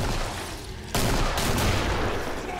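Grenade launcher fire in Killing Floor during a competitive match, a dense loud volley of blasts and gunfire that jumps in intensity partway through, continuing steadily to the end.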